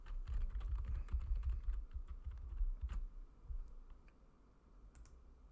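A password being typed on a computer keyboard, a quick run of close, soft key clicks that thins out to a few scattered taps near the end.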